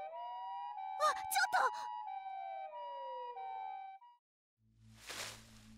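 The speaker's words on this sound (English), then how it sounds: "I could hear sirens." Police sirens in the Chaos;Child visual novel wail in steady, layered tones for several seconds, then cut out, followed by a rumbling, noisy swell; a brief vocal groan breaks in early on.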